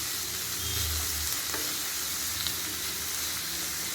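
Cut tomatoes and vegetables sautéing in a pan for snake gourd kootu give a dense, steady close sizzle with a few faint stirring taps, and no one speaks.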